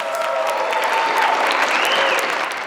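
Sustained applause from a crowd in city council chambers following an 11-0 vote passing a proposal into law, dense and even clapping filling the room without pause.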